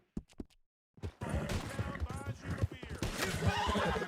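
A horse in Red Dead Redemption 2 gives a loud, wavering neigh amid clopping hooves and a couple of sharp knocks, with someone talking over it.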